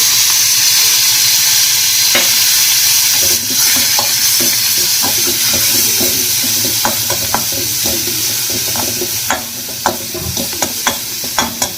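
Coriander and curry leaves frying with ivy gourd in a pan, a loud hissing sizzle with steady scraping stirs that turn into sharper, spaced clinks toward the end, no voices.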